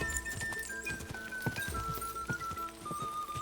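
A galloping horse in Kingdom Come: Deliverance II thuds along in a fast, even rhythm of hoof strikes, close and steady throughout, layered over soft gliding musical tones from the game, with no voices.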